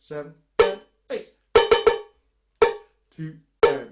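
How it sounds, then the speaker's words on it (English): A cowbell plays a syncopated Jamaican reggae rhythm: about nine sharp metallic strikes in an uneven, off-beat pattern, each ringing briefly and clearly with no other sound around it. "when we put that on the cowbell, it will sound like this"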